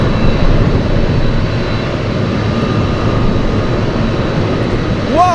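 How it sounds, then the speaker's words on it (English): A Boeing 737-800 jet flies past at Anchorage airport on a gusty day, giving a loud, sustained engine roar with a rising whine near the end and no talk. "That's a 737-800 flying for 39 minutes."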